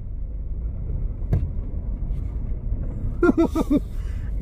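An abandoned $80 car that barely runs idles with a low, steady engine rumble, a single knock partway through and a brief squealing whine near the end as it is shifted into reverse.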